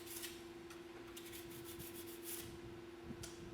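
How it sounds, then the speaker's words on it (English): Steady rasping rub of a shop stone deburring a ski scraper, continuous over a faint constant hum with a few brighter strokes, close and fairly quiet. "I'm going to use my shop stone. Make sure there's no rough burrs on the scraper."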